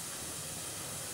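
Mustard seeds and cumin crackle in hot oil, a brief soft hiss with faint scattered spluttering, quiet and close.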